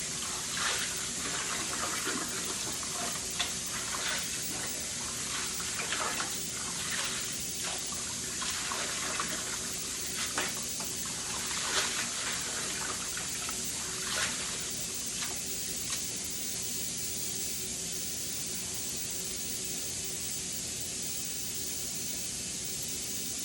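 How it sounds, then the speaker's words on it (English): Water draining from a kitchen sink after washing collard greens, a steady running, gurgling wash with splashes as the greens are stirred, fading toward a quieter flow near the end. "Now I'm going to let the water out, let them drain."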